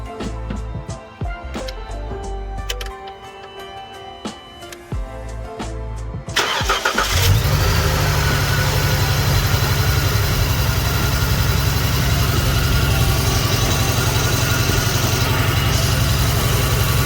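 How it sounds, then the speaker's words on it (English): A V6 Dodge Challenger cranks over and fires up after some light clicks and handling noises, then settles into a loud, steady, close-up idle with a low rumbling drone. "Watch what happens when I start the car."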